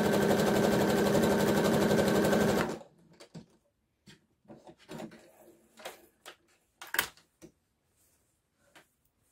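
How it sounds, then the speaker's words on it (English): A sewing machine sewing a zigzag stitch runs in a fast, even rhythmic whir for a few seconds, then stops, followed by scattered small clicks and handling noises. "sewing machine on zigzag and sew"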